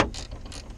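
A socket ratchet working a bolt under the dash of a 1966 Pontiac LeMans, a few quick clicking ratchet strokes, close and fairly quiet.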